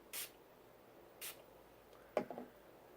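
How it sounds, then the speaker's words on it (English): Two quick, short hissing spritzes of makeup setting spray onto a makeup brush, followed by a faint soft brushing rustle, in a quiet room. "Spray my brush."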